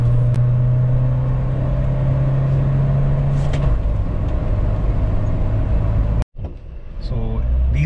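A 2020 Mahindra Thar diesel accelerating, heard as a steady close engine drone and rumble from inside the cabin, pitch holding then dropping briefly around a gear change, with the engine note carrying on after.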